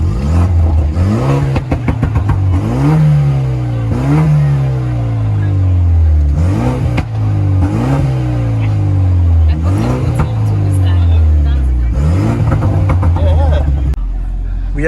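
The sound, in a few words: Ford Mustang GT car driving fast on city streets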